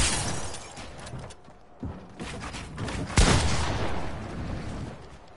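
Sniper rifle fire in a video game rings out as loud, broadband blasts over dense game noise, with one especially sharp shot standing out near the middle.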